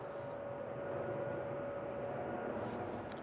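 Ryanair airliner arriving from Prague at Manchester Airport, a continuous distant jet rumble with a faint steady engine whine, moderately quiet and even, with no talk.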